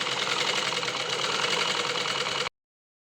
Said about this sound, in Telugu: ఫ్రంట్ పార్ట్ అనేది స్టిచ్ చేస్తున్నాను.